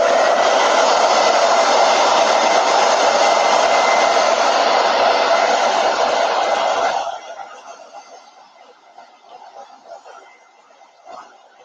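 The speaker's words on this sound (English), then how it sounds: "let me just hit this with a hair dryer" A hair dryer blows steadily and loud for about seven seconds during a chalk-transfer sign craft, then cuts off, leaving a quiet room with faint rustling.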